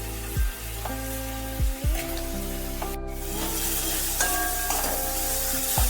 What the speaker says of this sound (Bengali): লবণটা দিয়ে একটু নাড়তে হবে যাতে টমেটোগুলো একটু নরম হয়ে যায়।